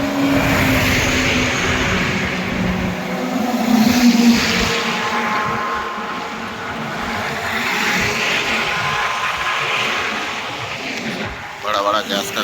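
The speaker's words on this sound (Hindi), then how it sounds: "बड़ा बड़ा गैस का गाड़ी आ रहा है" A big gas tanker truck comes up a highway with a loud, rising roar of engine and road noise that swells and fades in waves. Someone talks over it throughout.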